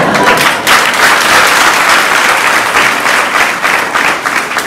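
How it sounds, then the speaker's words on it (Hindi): Loud, sustained applause from a church congregation at a Hindi-language Christian sermon in Dang, a dense steady wash of many hands clapping throughout with no talk over it. "ये सारी तालियां काली मिट्टी वालों की है।"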